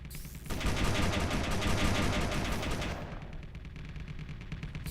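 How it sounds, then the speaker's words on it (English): Rapid continuous gunfire from ship weapons in the Space Engineers game, a loud dense burst of automatic shots sustained throughout, easing slightly near the end. "We'll continuously fire on them, and then I get to board it"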